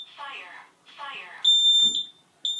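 Children's combination smoke and carbon monoxide alarm under test, giving two short spoken voice messages followed by loud piercing high beeps, close by in a room, with a person speaking briefly among the beeps.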